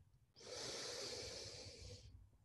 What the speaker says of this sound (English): We'll take a nice deep breath in.